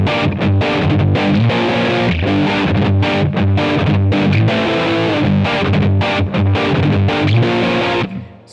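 A distorted electric guitar chugs through a verse riff, loud, dense and steady for several seconds before cutting off, with no voices.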